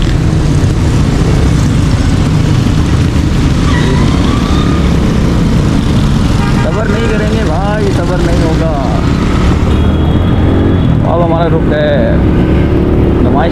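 Steady roar of car traffic moving through wet streets of Karachi at night after monsoon rain, engines and tyre hiss blending into a continuous dense wash with a few passing horns, people talking over it.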